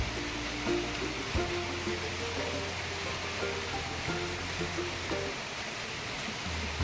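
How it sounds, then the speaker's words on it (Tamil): Rain falls steadily outside a house, a broad, constant rushing hiss with faint murmuring sounds mixed in underneath. "மழை வந்துடுச்சு"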